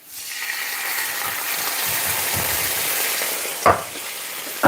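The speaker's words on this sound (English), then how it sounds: "make the tomatoes sizzle." Tomatoes tipped into a hot pan sizzle and fry steadily in a home kitchen, a continuous crackling hiss with a brief clatter near the end and no talking.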